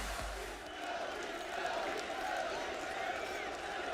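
An esports arena crowd roars and cheers after the final round of the last CS:GO major of 2015, a dense, sustained wall of voices under a commentator speaking.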